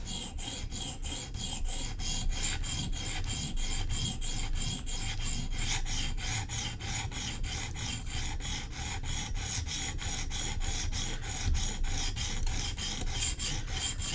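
Steady, even rasping strokes of a Koenig Arius knife edge worked on a sharpening stone, repeating in a quick regular rhythm, close and alone without any talk.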